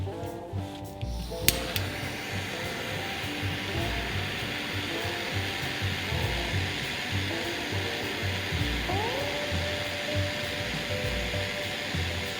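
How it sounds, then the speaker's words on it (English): A small butane torch roars steadily and close, heating solder on a boiler stay of a Bowman M101 boiler, with a brief clatter near the start and a faint rising tone later. "All I'm using is a small butane torch at this point and a wet cloth."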